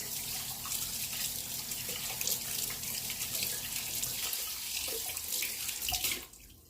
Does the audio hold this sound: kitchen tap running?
yes